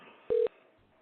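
A single short touch-tone beep from a telephone being dialed to call a number, brief and clear over a faint background hiss, no talking.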